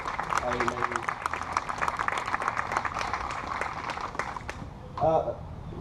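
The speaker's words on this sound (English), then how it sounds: "We have one more round of applause for her." An audience claps for a woman at a Bonita Springs Patriot Day of Service ceremony. Broadband applause runs steadily through most of the span, then thins out, and a speaker's voice follows near the end.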